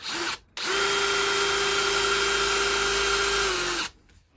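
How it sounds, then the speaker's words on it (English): Power drill whirring steadily at close range, with a short burst first, a brief pause, then a long constant run that stops abruptly. "it looks like we're going back to our favourite drill"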